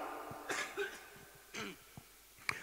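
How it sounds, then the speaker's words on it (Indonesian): A person coughing at a public religious talk, several short, quiet coughs and throat sounds spaced over a couple of seconds in a quiet room. "Hapunten ieu teh nu rada batuk deh."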